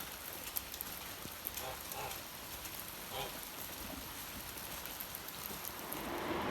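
Steady rain falls on a farm, a dense continuous hiss of drops on surfaces with scattered nearer patters, moderately loud and without speech.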